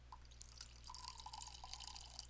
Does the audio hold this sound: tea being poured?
yes